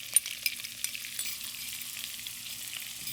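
Ginger and garlic sizzling in hot oil in a pan for a pork and broccoli stir fry, a steady close hiss with a few sharp crackles and pops, no voices.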